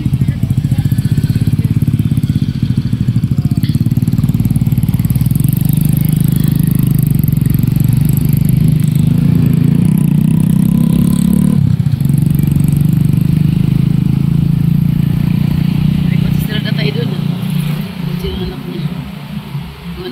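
Steady engine rumble of motorcycles and cars passing close by at a busy road crossing, continuous throughout with a brief shift midway and tapering slightly at the end.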